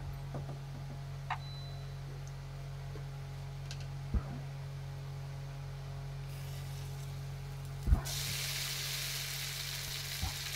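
Bay leaves and spices fry in a pan with a steady low sizzle, broken by a few faint ticks and clinks and a louder crackling burst near the end.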